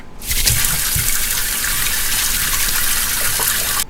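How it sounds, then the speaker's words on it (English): A tap runs full and steady for hands being washed with soap, a close, loud gush that starts abruptly and cuts off just as sharply, with faint handling sounds early on. "This is soap, and here's the water,"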